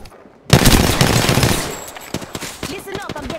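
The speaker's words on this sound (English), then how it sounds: "Listen up, I'm getting shot at." Rapid automatic gunfire in the Apex Legends video game, a loud, close burst of dense shots starting abruptly and continuing in uneven volleys, with short voice lines in between.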